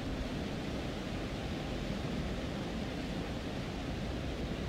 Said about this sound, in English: I have noticed something with the... white noise in that, and there is something in there.